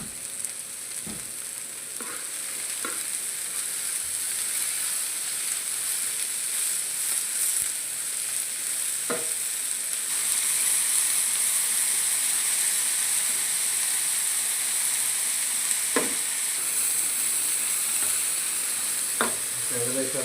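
Capsicum in yellow, red and a third colour, salted and frying in a pan in a Kerala kitchen, with a steady close sizzle and a few scattered spoon scrapes as it is stirred.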